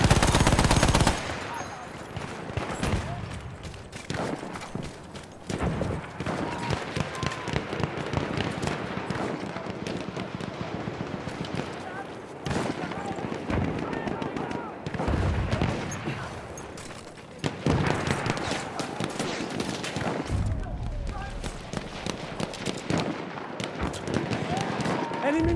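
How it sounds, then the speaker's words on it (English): Machine gun fire in the battlefield shooter Battlefield 1, dense and continuous bursts crackling throughout with scattered louder blasts, while voices call out over the gunfire. "Enemy machine gun."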